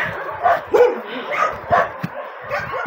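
Dogs at an animal shelter bark and yip in short, irregular bursts, several loud nearby barks overlapping with fainter whimpers.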